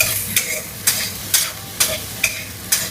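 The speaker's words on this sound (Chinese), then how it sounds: "煸炒" Wok stir-frying aromatics such as garlic and scallion, a steady sizzle punctuated by six regular scraping strokes of the spatula, close and loud with no talking.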